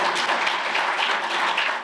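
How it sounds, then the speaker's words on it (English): A steady round of applause from an audience at a chamber of commerce event, dense and close, holding evenly before tapering off slightly at the end. "let's all give her a round of applause for being here"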